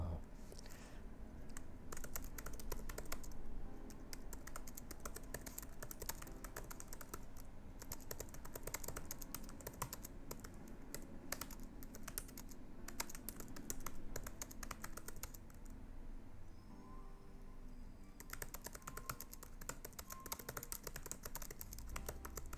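Steady typing on a computer keyboard, dense rapid keystrokes continuing for over twenty seconds with brief pauses, close and fairly quiet.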